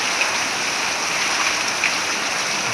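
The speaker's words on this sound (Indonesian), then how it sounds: "Yuk juga hujan deras teman-teman di sini." Heavy rain pours down beside a house, a dense, even hiss of water hitting surfaces that holds steady and close throughout, with no talk.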